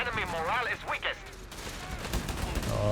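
Machine gun fire in Company of Heroes 3, a steady rattling burst running under a voice talking in the foreground.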